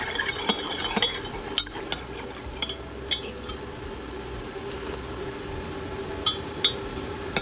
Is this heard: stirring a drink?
yes